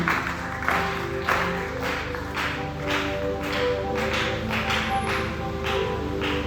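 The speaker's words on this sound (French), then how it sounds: "nous acclamons très fort pour le Seigneur" Church congregation applauding loudly for the Lord, a dense patter of clapping hands that swells and settles in waves over a sustained musical tone in the room.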